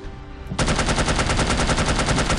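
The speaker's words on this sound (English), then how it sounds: "Oh, the machine gun. It's always fun." Machine gun fire in the video game No One Lives Forever, a loud sustained burst of rapid evenly spaced shots starting abruptly after a short quiet lead-in.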